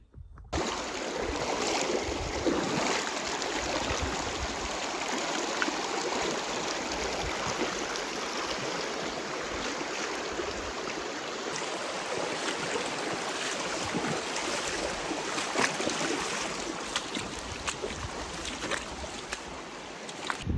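Continuous rushing of a flowing river in the Kaimanawas, broad and steady, close by, with occasional gusts of wind buffeting the microphone.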